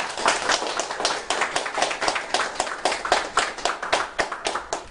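An audience applauds after a charity speech, a dense, steady wash of many hands clapping that rises and falls slightly in waves and keeps going throughout at fairly close range.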